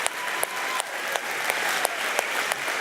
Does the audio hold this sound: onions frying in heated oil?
no